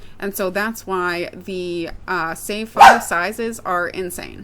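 A dog gives a sharp bark close by, cutting briefly through a man's ongoing speech.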